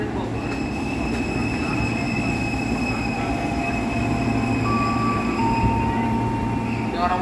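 A ten-car commuter train rolls through a station on the Bogor line, a steady loud rumble of wheels and carriages with high metallic squeal tones running over it, continuous and close for the whole stretch.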